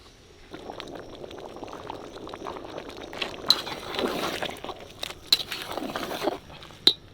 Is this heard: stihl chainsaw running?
no